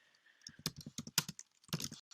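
Typing on a computer keyboard during a Python input exercise, a quick run of soft close key taps in two short bursts separated by a brief gap, with a faint steady tone underneath.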